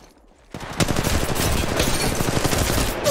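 Dense automatic gunfire in the Apex Legends Mobile battle royale game, kicking in abruptly after a quiet half-second and continuing as a loud, sustained, overlapping rattle of shots to the end.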